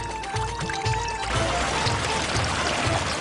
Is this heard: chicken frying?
no